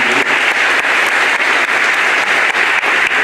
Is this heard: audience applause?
yes